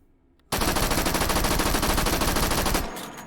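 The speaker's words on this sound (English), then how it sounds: "Here we go with the recoil test. 30 rounds of 45 ACP, full auto." Simulated Thompson submachine gun in the H3VR virtual reality game emptying a 30-round magazine of .45 ACP on full auto: one loud, sustained burst of rapid, evenly spaced shots lasting over two seconds, then quiet.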